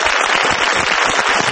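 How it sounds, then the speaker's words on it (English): Applause for a quiz contestant, loud and dense clapping that fills the short stretch without a break, with voices mixed in underneath. "Round of applause for Maxine."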